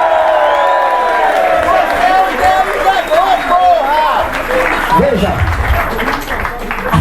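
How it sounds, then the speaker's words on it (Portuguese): Crowd applause and cheering with whoops rising and falling, a voice speaking over it near the start. "Salva de palmas para a ameaça fascista."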